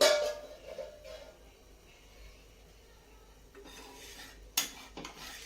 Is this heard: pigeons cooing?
no